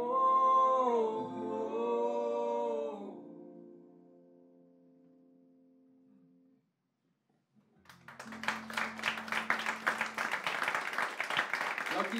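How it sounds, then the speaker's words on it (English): At a house concert, a song rings out and fades into silence, then the audience breaks into dense, sustained applause that carries on to the end, with a faint held tone underneath. "Y'all keep the applause going for Mr."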